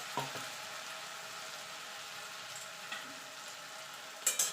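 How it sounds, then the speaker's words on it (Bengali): Ginger, garlic, onion and green chilli paste fries in hot oil with a faint, steady sizzle broken by a few sharp pops near the start and end. No one speaks. "তেলটা গরম হয়ে গেছে। এবার আমি মশলাটা দিয়ে দেবো।"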